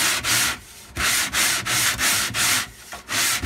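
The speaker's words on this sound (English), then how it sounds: "So that's sandpaper right down there. That's 4 sheets of sandpaper, about 60 grit." The edge of a 1960s Ludwig drum shell is rubbed on 60 grit sandpaper laid on a flat surface, making loud, close, rhythmic rasping strokes, about seven back-and-forth passes with brief pauses between them.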